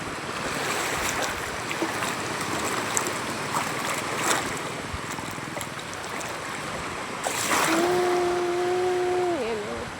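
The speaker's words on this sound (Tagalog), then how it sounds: "Maganda yung alon ngayon." Gentle sea waves wash continuously around a small wooden boat, a soft broadband hiss with wind, and a brief sustained horn-like tone sounding near the end.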